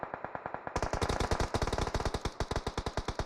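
Gunfire in a PUBG esports clan-war match: rapid automatic weapon bursts firing in quick, evenly spaced shots, loud and sharp, running almost nonstop for a few seconds with no talk over it.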